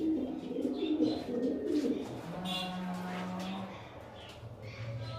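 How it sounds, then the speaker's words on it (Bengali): Pigeons in a loft coo steadily, low rolling calls repeating close by, with a longer sustained coo in the middle and further cooing toward the end. "আর কিছু পায়রা আছে আপনাদের দেখাচ্ছি একবার"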